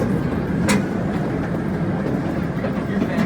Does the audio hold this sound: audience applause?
no